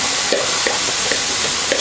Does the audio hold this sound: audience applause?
no